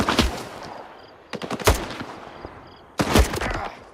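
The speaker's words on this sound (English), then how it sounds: "It's a shotgun." Shotgun blasts in S.T.A.L.K.E.R. 2: Heart of Chornobyl, three loud close bursts of gunfire with rattling tails, spaced unevenly over a few seconds, no talking.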